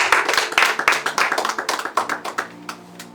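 A church congregation claps together in praise of the Lord, a dense run of sharp, fairly loud hand claps with a steady rhythm that thins and softens toward the end.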